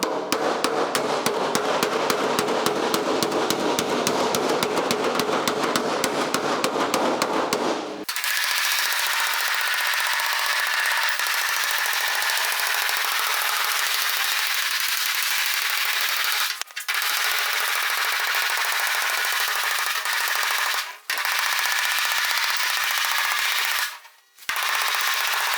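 Fast, steady hammer-and-dolly tapping on the steel edge of a 1956 Chrysler 300 trunk lid for several seconds, then a constant loud broadband workshop noise with a few brief dropouts.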